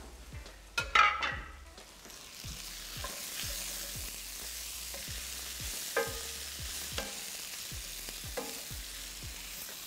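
Chorizo fries in a pan over medium-high heat with a continuous soft sizzle, broken by repeated scraping strokes of a utensil and a few louder clatters near the start.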